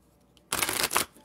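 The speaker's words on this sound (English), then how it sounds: "So let's get a good shuffle." Tarot cards being shuffled in a single crisp riffling burst lasting about half a second after a brief quiet lead-in, close and fairly loud.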